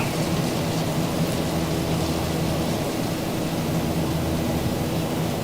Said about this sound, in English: Oh, we're getting hit with some rain.